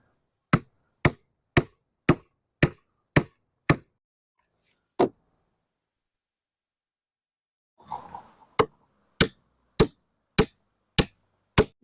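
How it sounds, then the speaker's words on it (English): Sharp, evenly spaced hammer blows drive stakes into stony ground for concrete curbing, a run of seven strikes, a lone hit, a brief scraping shuffle, then another steady series, all close and loud against silence. "Now I have a proper hammer."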